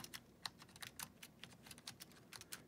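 Rapid, quiet clicking of a Razer Huntsman Mini keyboard with linear switches, typed on during Minecraft play; soft irregular keystrokes about two to three a second, close and with no speech.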